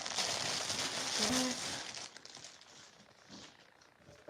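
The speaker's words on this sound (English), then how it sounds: "Okay, so let's unwrap this." Packaged black diamond fabric being unwrapped for a prom dress, its plastic wrapping crinkling and crackling up close for about two seconds before fading into softer rustles.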